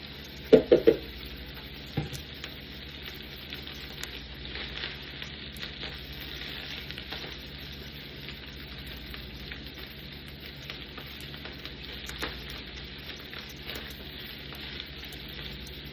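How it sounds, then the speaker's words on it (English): Steady broadband sizzle of rice frying in oil, with a few sharp clatters at the start, then a continuous hiss throughout. "Add a little more oil to frying the rice."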